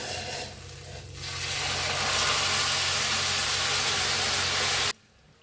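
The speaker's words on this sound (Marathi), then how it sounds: "असं गरम पाणी ओतूया." Hot water poured into a pan of cooking stuffed brinjal, a loud rushing hiss and boil that swells, holds steady for a few seconds, then cuts off abruptly.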